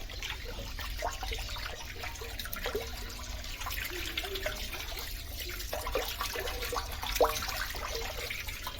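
Water pours from a pipe into a small fish tank being cleaned, a faint, continuous splashing and trickling wash with small bubbling bursts, steady throughout.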